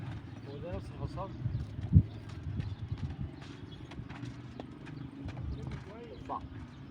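Horse hooves clip-clop at a walking pace, soft and somewhat distant, with a snort or stamp in the middle and people talking over the sound.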